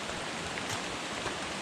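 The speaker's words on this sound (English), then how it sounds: "so now we're in the rain" Rain falls steadily on a wooded hiking trail with slippery roots, a soft, even patter and hiss with no voices.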